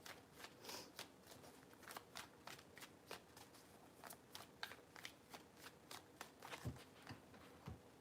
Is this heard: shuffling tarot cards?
yes